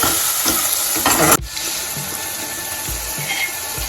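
Curry of fenugreek seeds being stirred in a pan after salt goes in, a loud wet sizzle with scraping that cuts off sharply, leaving quieter bubbling and occasional soft knocks of the spoon.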